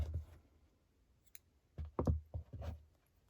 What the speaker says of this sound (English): now what you're going to do is you're going to cut your yarn